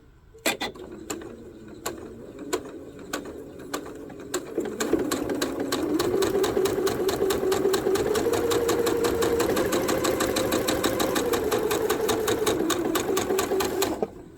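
A sewing machine stitches a pair of fabric squares for half square triangles. It starts with slow, separate needle thumps, then settles into a steady, fast, close mechanical chatter that runs to the end with no talking.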